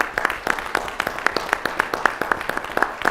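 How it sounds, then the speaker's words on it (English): Panel audience applauding, a modest crowd of individual claps heard as distinct rhythmic hand slaps at close range, steady for a few seconds with faint background murmur. "can we give a round of applause to the 3 West African country governments who actually stopped Ebola"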